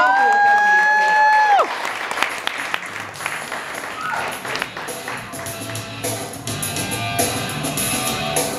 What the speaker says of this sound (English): Put your hands together for Bennett Coffey